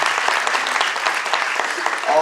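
A theatre audience at the play Munni Bai applauds the musicians, including the sarangi and tabla players, with loud, continuous clapping that fills the whole moment.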